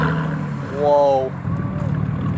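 A low, steady rumble comes from a Dodge Challenger V6 idling through a straight pipe exhaust, close by, while a person exclaims over it.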